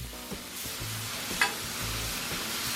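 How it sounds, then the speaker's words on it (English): Shrimp sizzling on a Blackstone griddle for jambalaya, a close, steady hiss with low scraping hums and a single sharp metallic tick midway, no talk. "Get my spatula, get that shrimp spread out a little bit where it'll cook"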